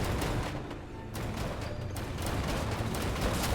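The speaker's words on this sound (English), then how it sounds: "we do not want to be blasted off by cannons" Cannons fire repeatedly in the MediEvil video game, a rapid series of sharp loud blasts and booms crowding together over a busy rumbling background.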